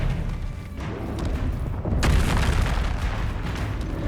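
Explosive spells cast in the Hogwarts Legacy video game, heard as a dense, rumbling roar of blasts with a sharp burst partway through, loud and close throughout.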